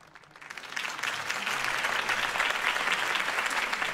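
Applause swells from a crowd in a video game and holds steady, a dense wash of clapping that sounds somewhat distant and reverberant.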